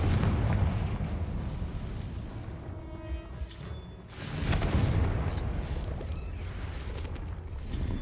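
A Confringo blasting spell explodes in Hogwarts Legacy with heavy, rumbling bursts, a loud opening blast, then a second swelling boom a few seconds later over a continuous crackling, mechanical din.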